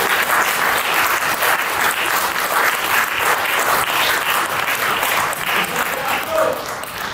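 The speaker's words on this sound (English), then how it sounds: "just give a huge round of applause to my brother in Christ" A church congregation gives a long, loud round of applause for a man sharing his testimony, dense clapping filling the room steadily with a murmur of voices mixed in.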